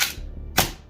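A single sharp gas-powered shot from a WE Cybergun airsoft Desert Eagle pistol running on green gas, a quick crisp pop following a faint earlier burst, close and fairly loud.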